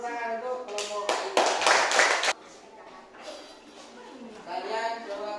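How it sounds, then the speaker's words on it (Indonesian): Classroom children clapping for group 3, a short dense burst of applause lasting about a second, close and fairly loud, with a teacher's voice talking before and after. "kasih tepuk tangan untuk kelompok 3"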